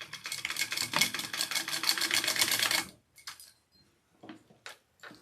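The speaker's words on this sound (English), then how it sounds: "And then I'm going to sew it at about 1 inch in." A sewing machine stitches a fabric sling about an inch in from the edge, running for roughly three seconds as a rapid, even chatter, then falling to a few soft clicks and faint handling sounds.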